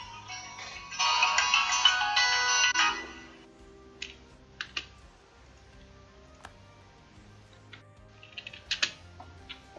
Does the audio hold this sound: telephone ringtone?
yes